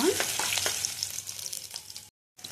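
Small-cut garlic pieces frying in a pan for a restaurant-style chicken gongura curry, giving a close, bright, continuous sizzle with a few soft clinks of stirring, fading slightly before a brief gap, no talking.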